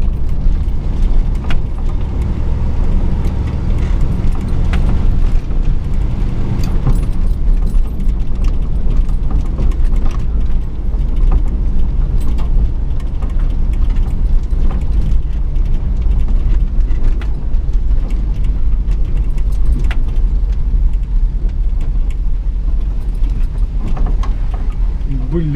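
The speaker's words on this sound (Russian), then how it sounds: "Ай да V8-ка, как звучит." A 1987 Dodge Ramcharger V8 runs steadily nearby, its deep, even rumble holding throughout the clip while voices talk over it.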